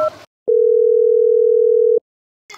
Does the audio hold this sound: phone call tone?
yes